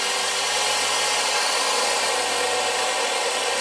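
A small electric chainsaw cuts through wood with a loud, continuous high whine and a steady low hum, close by and unbroken for the whole stretch.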